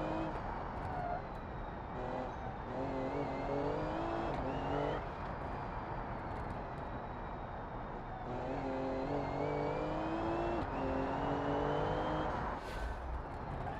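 A 1000 hp Toyota Supra race car with a 2JZ engine in the driving game BeamNG revs hard and repeatedly climbs through the gears, with rising engine tones broken by brief shift dips, loud and continuous.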